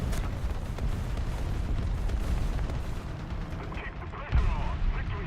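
Tank-cannon and gunfire in an American ground forces tank video game: a sharp boom opens, dense rumbling battle noise continues, and a second heavy blast lands near the end, with voices talking over it.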